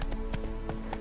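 Roach, the horse in The Witcher 3, gallops with quick rhythmic hoof clops, close and clear over a constant background hum.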